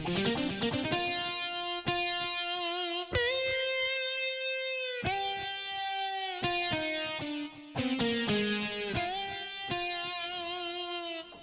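A distorted, effect-laden synth keyboard, a Medeli AKX10, plays an electronic rock style with sustained chords and stepping notes, with brief pauses between phrases.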